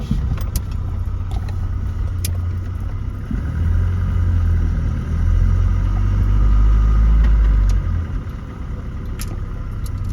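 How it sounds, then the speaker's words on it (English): A car engine rumbles low and steady through its exhaust while driving, swelling louder in the middle as it accelerates, with small rattles and clicks nearby. "You might get to hear my killer exhaust system too."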